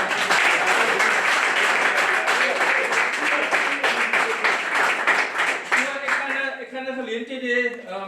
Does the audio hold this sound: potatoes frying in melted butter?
no